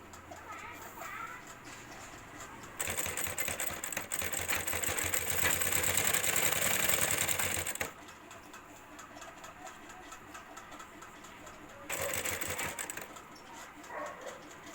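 Sewing machine stitching the sides of a cloth grocery bag, running in a loud steady burst of about five seconds, then a shorter burst later, with quieter handling between runs.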